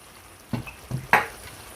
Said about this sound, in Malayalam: ഇതിനൊരു ശക്കലം വെള്ളം ഞാൻ ഒഴിച്ചു കൊടുക്കുവാണ് കേട്ടോ